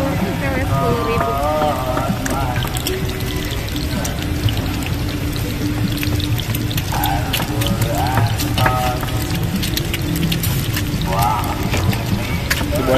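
Eggs fry in a pan at a street food stall, the steady loud sizzle continuing throughout while people talk over it.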